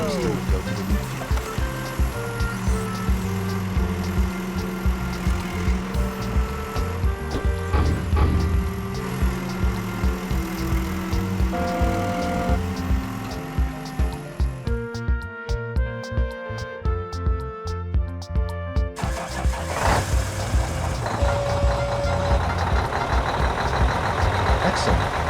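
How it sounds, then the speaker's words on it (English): Animated farm scene of a forklift loading empty bottles onto a truck trailer: a continuous busy mix of engine hum, clattering glass-like clinks and tonal beeps, loud and near, with a brief rhythmic clicking passage midway. "we will load empty bottles onto the truck trailer using a forklift"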